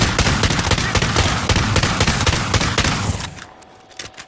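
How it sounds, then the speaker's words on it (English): Dense rapid gunfire from the video game Call of Duty Warzone, a loud sustained burst of shots that cuts off and fades into quieter game sounds near the end. "Stop shooting, Flome!"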